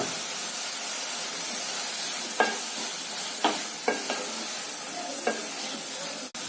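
Bottle gourd halwa with khoa and fried dry fruits cooking in a pan, heard as a soft, steady sizzle broken by a handful of sharp spoon taps and scrapes.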